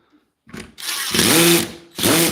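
A Makita power drill drives screws into wood in two loud, close bursts of whining motor, each ramping up in pitch, with a brief stutter before the first run.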